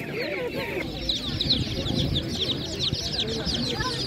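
Laying hens cluck and chatter steadily throughout at an animal market in Ivano-Frankivsk region, a busy flock sound with some background noise and murmuring voices mixed in.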